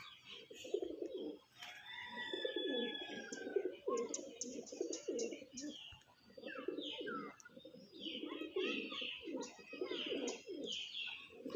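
Andalusian pigeons kept as a hobby flock cooing, repeated low throaty coos overlapping in bursts close by, with occasional higher chirps and faint voices in the background.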